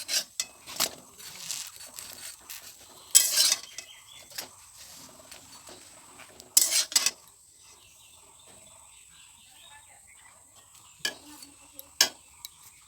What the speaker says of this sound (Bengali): আমি কিন্তু চামচ এইভাবে করে একটা একটা করে আমি সব গোলা রুটিগুলো ভেজে নিচ্ছি